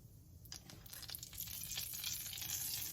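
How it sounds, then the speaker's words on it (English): Half a teaspoon of Kashmiri red chili powder hits a tablespoon of hot oil in a pan, giving a steady close sizzle that builds and crackles brightly, with a few sharp spits near the start. "So here I took 1 tablespoon of oil in the pan, and now I'm going to add half teaspoon of Kashmiri red chili powder"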